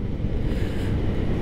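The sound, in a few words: wind noise while riding motorcycle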